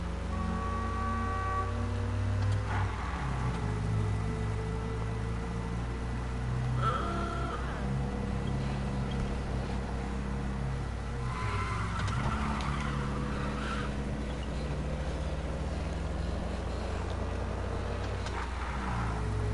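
Old car from Mafia driving at a steady low engine drone with tonal hums and occasional shifts, continuous and fairly loud, no talking over it.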